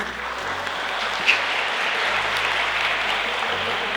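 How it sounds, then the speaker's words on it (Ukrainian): An audience at a school awards gathering for students' regional competition results gives the coaches a sustained round of applause, dense steady clapping with one brief louder clap near the start. "Аплодисменти для ваших тренерів."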